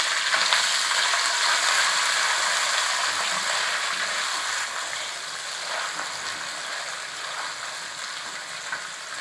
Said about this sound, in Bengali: পেঁয়াজটাকে এবার ভালো করে ভেজে নিতে হবে।